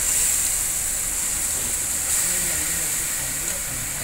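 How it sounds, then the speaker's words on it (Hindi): Carrots dropped into hot ghee give a steady, loud high hiss of sizzling that holds through the whole stretch, with one brief surge about halfway, as the gajar ka halwa gets started. "ये हमारा घी गर्म हो गया है, अब मैं इसमें ये गाजर डालूंगी।"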